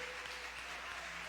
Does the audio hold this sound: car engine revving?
no